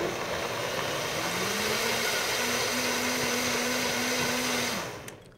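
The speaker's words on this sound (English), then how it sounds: "If you have a variable speed blender, start on low and then bring it up." A variable speed blender mixes a recipe, starting low and climbing to a higher speed with a steady, loud whirring drone that holds for several seconds before spinning down and stopping.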